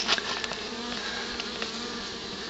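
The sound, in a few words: honey bees buzzing around a trap-out cone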